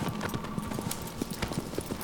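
Horse hooves clip-clop in Shadow of the Colossus, a steady rapid galloping beat of sharp knocks with a low rumbling background and no talk.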